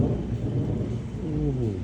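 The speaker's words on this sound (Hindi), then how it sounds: "ओहो भाई बिजली कड़क रही है भाई" Low, rolling thunder rumbles steadily through a rainstorm, a heavy, continuous roar with a faint voice underneath.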